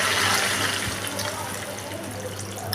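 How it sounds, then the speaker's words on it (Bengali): Water pours steadily into a cooking pan of potato and papaya curry, a continuous close splashing rush that eases slightly toward the end, with no speech. "জল দিয়ে দিলাম।"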